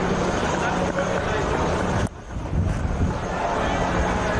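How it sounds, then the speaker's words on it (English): Strong east wind gusting across a cricket ground, a loud, steady roaring rush of buffeting noise against the microphone, with a brief dip midway before the blustering resumes. "that wind is very strong from the east coming across the ground to the west"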